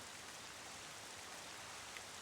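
Rain falling in the video game The Legend of Zelda: The Wind Waker, a constant, even hiss of steady rainfall with no other sounds or voices.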